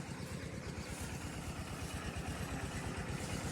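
A water pump engine running near a canal at a duck farm, a steady low mechanical drone with a rapid pulsing chug, continuous and moderately loud with no voices.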